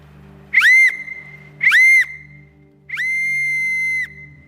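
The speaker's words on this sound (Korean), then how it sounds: "호루라기를 불어라. 3번." Three loud whistle blasts ring out close by during a church sermon: two short sharp toots, then a longer sustained one, over a faint low hum.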